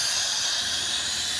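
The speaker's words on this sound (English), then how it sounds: "here's going to be the steam cleaner on these to like knock off the slime of the salt" A steam cleaner blasting rare coins to clear off salt residue, giving a loud, steady, close hiss that runs unbroken from start to finish.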